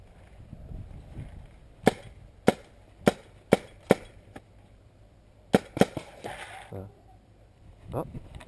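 Sharp paintball marker shots crack out during a two-on-two paintball tournament game, a quick volley of about five pops followed by two or three more after a pause, with faint players' voices in the background.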